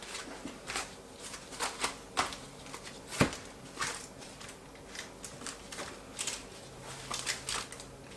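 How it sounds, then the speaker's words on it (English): Oat crumble mixture pressed by hand into a 10 by 10 baking pan, heard as soft, close scratchy crunching and patting in irregular bursts, fairly quiet with no talk. "I'm just going to push it down until it covers the entire bottom of the pan"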